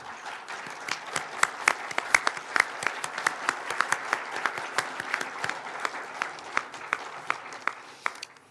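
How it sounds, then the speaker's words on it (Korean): Audience applause for an honored guest at a university newspaper's 90th anniversary celebration, a fairly quiet, even patter of many hands with distinct sharp claps standing out, continuing steadily before tapering at the end. "김경 장로님, 박수 좀 부탁합니다"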